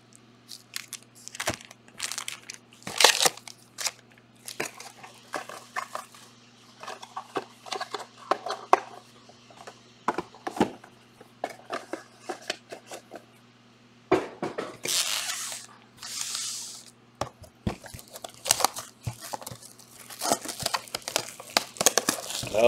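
Trading card pack wrappers being torn open during a card break, giving bursts of crinkling, crackling foil tears scattered over a quiet background at close range.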